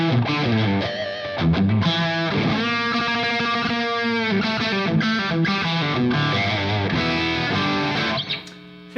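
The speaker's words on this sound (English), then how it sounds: "the Strat's so bright, and all that distortion just compresses it" A Fender Stratocaster played through a Soldano SLO 30 amp on a heavily distorted 80s-style lead tone, with compressed sustained notes, runs and chords, loud and continuous for about eight seconds before cutting off.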